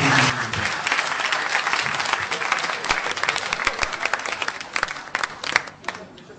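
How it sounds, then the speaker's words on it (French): An audience at a Beninese university quiz competition bursts into loud, dense applause that swells and becomes choppier toward the end, individual claps standing out as it tapers. "Applaudissez très très fort."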